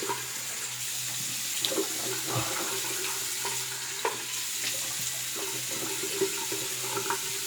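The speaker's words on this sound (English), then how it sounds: "Get the cold water going here." Cold water runs from a bathroom tap into a sink in a steady, close hiss, with faint clinks and splashes over the flow.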